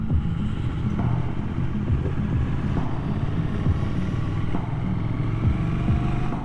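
A 2023 Triumph Thruxton RS Chrome Edition motorcycle rides quickly along country lanes in sport mode, its engine a steady, close, droning rumble with slight throttle swells and no talking.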